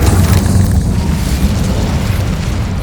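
A fire spell cast in the Hogwarts Legacy video game erupts as a loud, sustained roaring burst of flame, heavy and booming throughout the short moment with no voices over it.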